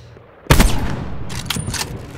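Gunfire in Call of Duty Black Ops 4 Blackout: a sudden loud shot burst, then scattered further shots and crackling echo over game ambience, no talk.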